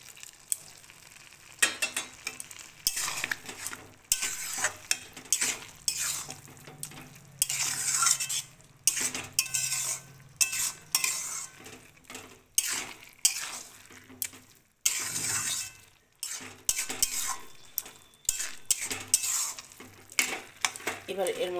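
Carrot halwa is stirred in a pan, its utensil scraping and knocking in uneven strokes over a soft sizzle. The stirring pauses briefly now and then, with only faint background voice.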